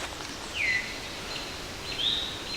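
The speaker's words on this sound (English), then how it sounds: "Birds singing." Two faint, brief bird chirps, several seconds apart, rise over a soft rustling outdoor background.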